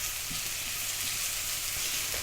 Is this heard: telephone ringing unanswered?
no